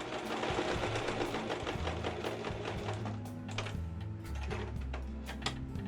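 A home sewing machine stitches fabric for a baby blanket, its needle chattering in fast rhythmic bursts with brief pauses and clicks between runs, close and moderately loud.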